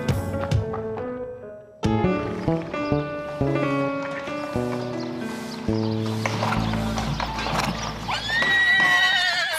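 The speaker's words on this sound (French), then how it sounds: "Beau cheval gris de 6 ans, convaincu qu'il sera la star de demain." A six-year-old grey horse whinnies loudly amid a busy mix of background music, with hoof clip-clop and movement sounds around it and a strong neigh near the end.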